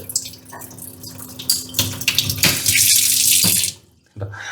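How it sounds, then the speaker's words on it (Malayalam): Water gushes from a multi-function kitchen sink faucet, close and loud, switching through spray settings in bursts before cutting off and briefly restarting at the end, with no talking. "പല രീതിയിലും ഇങ്ങനെ വെള്ളം വരുന്ന സാധനമാണ് ഇത്"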